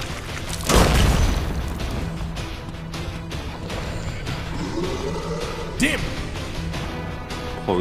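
An explosion set off by detonating oil in the horror video game Endless Nightmare 4 Prison, a single deep loud boom with rumbling tail, followed by quieter game ambience and stray effects while someone talks faintly.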